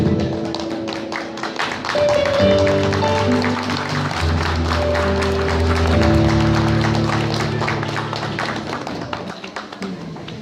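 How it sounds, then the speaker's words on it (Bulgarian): Crowd clapping for a young participant at a 2016 flour festival award ceremony, a rapid patter of many hands over sustained music tones, with tapping and thumps mixed in. "Аплодисменти за малкия участник, разбира се, той също заслужава това."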